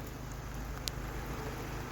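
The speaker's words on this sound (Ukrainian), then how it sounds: "Погода нельотна, трошки падає дощ." Steady light rain patters in a continuous, soft hiss, with a faint low rumble underneath and no voices.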